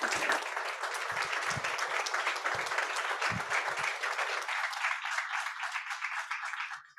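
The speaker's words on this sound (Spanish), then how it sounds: "un fuerte aplauso" An audience at a medical leadership and healthcare quality event gives sustained applause, dense and steady clapping from many people that tapers off at the end.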